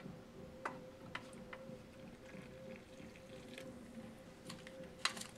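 Hot water is poured into instant coffee crystals with creamer and sugar from a 2012 US MRE, a faint, quiet pour with scattered light ticks and clinks.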